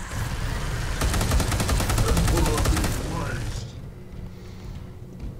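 Rapid automatic gunfire in the Space Hulk video game, a dense burst of fast repeated shots lasting about two seconds, followed by a lingering roar of fire and a fading rumble.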